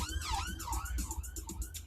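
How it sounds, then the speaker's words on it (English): An ambulance siren sweeps up and down in a fast wailing cycle as it passes, fairly faint and at a distance, with no one talking over it. "The ambulance has just gone by."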